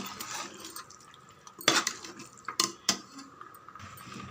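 Chicken kurma stirred in a pot, with a soft wet bubbling bed under several sharp clanks of a spoon against the metal rim, near and without speech.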